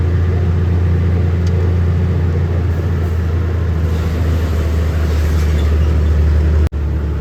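Vehicles on a mountain ghat road, including a long trailer truck, pass as a steady, loud low rumble of engines and tyres, continuous and close, with a brief dropout near the end.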